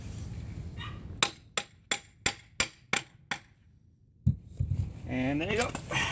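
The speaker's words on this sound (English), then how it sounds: "I'm going to use the busted up thing as a hammer." A broken metal part is used as a hammer while assembling a 4-speed Toploader overdrive gearbox: seven sharp metallic taps ring out in an even rhythm, close by, followed by a heavier knock and someone speaking.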